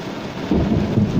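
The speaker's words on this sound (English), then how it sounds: "Woo, baby, that was some lightning." Thunder rolls through a storm with steady rain, a low rumble swelling louder about halfway through and continuing under the downpour; no voices.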